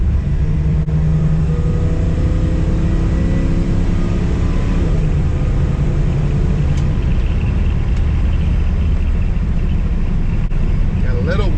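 A 1968 Dodge Super Bee V8 rumbles steadily from inside the cabin while driving, with a downshift shifting the engine pitch, and wind and road noise filling the background.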